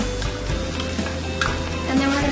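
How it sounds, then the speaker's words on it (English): Onions and carrots sauteing in a pan for summer squash sloppy joes, a dense close sizzle with light stirring scrapes throughout, no talk. "And you're going to saute these for about two minutes."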